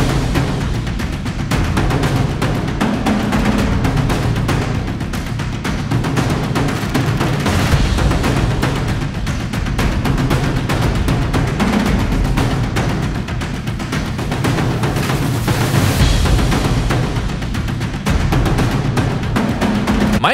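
Dense, booming percussion pounds steadily in a repeating loop, loud and full throughout with heavy low drums and no voices.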